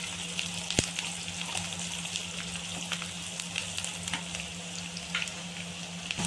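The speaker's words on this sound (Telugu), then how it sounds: "ఈ ఉల్లిపాయలు కొద్దిగా వేగిందంటే చాలు" Onions frying in a pan with rock salt, a soft steady sizzle with faint crackles and occasional light stirring clicks, quiet and close with no talk.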